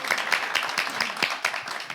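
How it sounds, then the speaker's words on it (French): A studio audience on a French talk show applauds, a brief round of moderately loud claps with distinct individual hits that stays fairly even. "Applaudissez pour vous."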